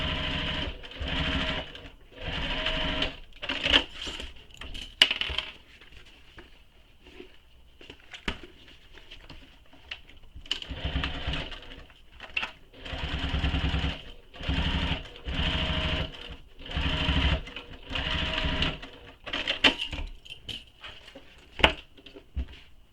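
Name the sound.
sewing machine sewing seam with long stitch length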